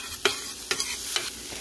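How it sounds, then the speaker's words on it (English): Onions and peppers frying in a pan on an electric stove for a taco bowl, with a steady sizzle and about four distinct stirring scrapes spaced through the short stretch; no talking. "I love the way onions and peppers smell when they're cooking."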